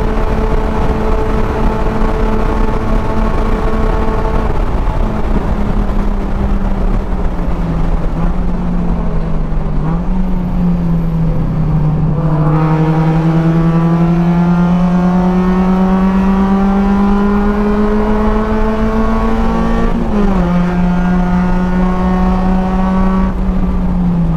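Loud, continuous Spec Miata race car engine drone at Daytona, heard from inside the car, with pitch climbing and dipping as gears shift, sustained throughout without pause.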